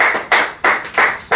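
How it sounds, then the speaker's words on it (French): A church congregation claps in unison, five loud rhythmic claps spaced about a third of a second apart, close and sharp with no talk. "Applaudissons la parole du Seigneur."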